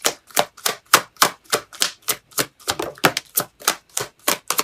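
Tarot cards shuffled and drawn during a reading, giving a steady run of crisp, evenly spaced riffling slaps, roughly four per second, close and clear with no voices.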